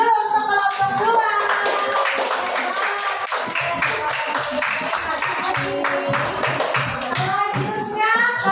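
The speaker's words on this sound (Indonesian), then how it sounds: "Tepuk tangan dulu untuk kelompok 2" A primary-school class applauds group 2, children clapping in quick, fairly rhythmic unison, close and loud, with children's voices and humming tones mixed in over the clapping.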